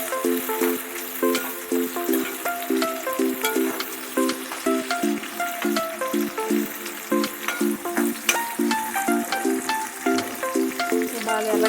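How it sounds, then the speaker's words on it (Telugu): Sliced onions fry in a pan for a country chicken curry, giving a steady loud sizzle. A rhythmic pattern of pulses runs through the sizzle without pause, and no one speaks. "ఉల్లిపాయలు వేసుకున్నాం. ఇవి గోల్డెన్ కలర్లోకి రావాలి."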